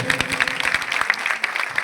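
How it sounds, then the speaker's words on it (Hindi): Dense applause from a crowd gathered at a neighborhood temple, honoring the temple priest, loud and steady clapping throughout. "सभी ने हमारे पंडित जी के लिए तालियां बजानी है जोर से"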